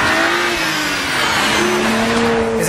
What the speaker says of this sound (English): you've got 2 turbos instead of 1, and you've got 6 cylinders instead of 5. This is one of the world's great engines.